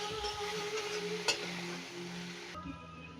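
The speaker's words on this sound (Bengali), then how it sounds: "সয়াবিনগুলো দিয়ে একটু নেড়ে চেড়ে দিয়ে দেবো" Soybean chunks tossed and fried with spices in a hot pan, a steady close sizzle with stirring scrapes and an occasional sharp clink of utensil on metal.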